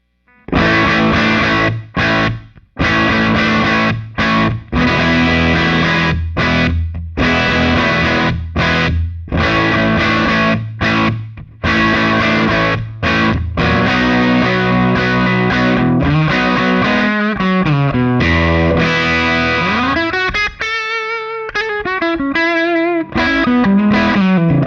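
Heavily distorted electric guitar played through a Dr. Z X-Ray amplifier at full power with the master wide open, loud and sustained, with dense chords and riffs, then a bending, sliding phrase near the end.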